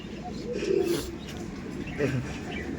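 Pigeons kept in a home loft in Bengal coo in low, soft bursts, a pair of clear calls near the start and another near the end, heard close against a steady background hum.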